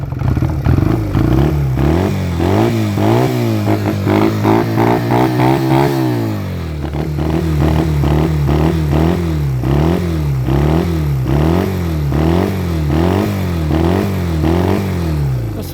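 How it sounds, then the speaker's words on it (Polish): A 1999 Honda Rebel 125 motorcycle with an aftermarket exhaust revved up twice, pitch climbing and falling in rhythmic bursts, loud and close, then settling into a wavering idle. "Dobra, dodamy tutaj dwa razy gazu"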